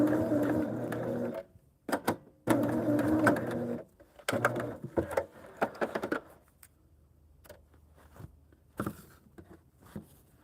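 A sewing machine sews a curved quilt seam in several short bursts, each a close mechanical whir with brief pauses between, fading to quieter handling clicks and taps toward the end.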